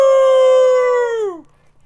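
A single long, loud howl imitating a wolf at the moon, held steady for about a second before sliding downward in pitch and fading out.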